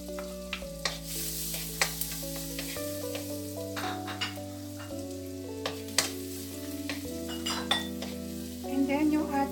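Garlic fries in butter in a wok for pineapple shrimp fried rice, a continuous crackling sizzle punctuated by repeated metal spatula clinks and scrapes against the pan, close and steady.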